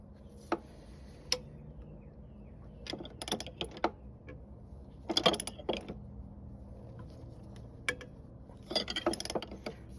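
A wrench tightens a bolt on a white GMC cab-over truck, heard as scattered close metallic ticks and clicks in short clusters over a quiet background, with no voices.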